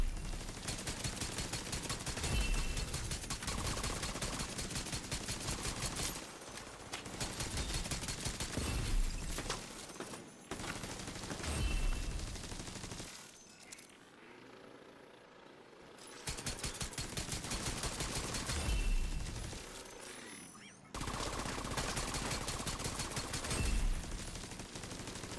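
Heavy gunfire in the video game The Division 2: dense, sustained bursts of automatic fire in long stretches, broken by a couple of brief pauses, fairly loud and constant.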